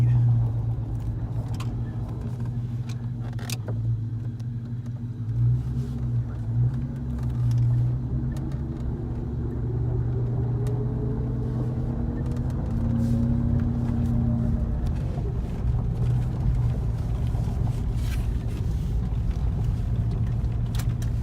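A car, fresh from a Stedda cold air intake install, drives steadily down a road on a test run, its engine drone and tire rumble continuous and fairly close for about twenty seconds, with no talk.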